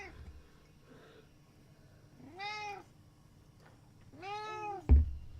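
A domestic cat meows twice for attention, clear drawn-out calls spaced apart indoors, followed by a brief sharp knock; no talk over it.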